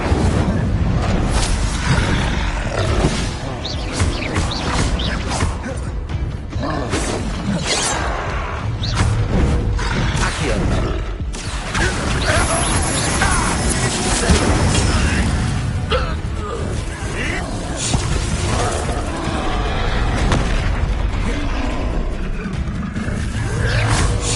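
Incendio fire spell blasting in Hogwarts Legacy, a loud continuous roaring, crackling rush of flame that fills the whole stretch with dense, steady energy and occasional heavier bursts.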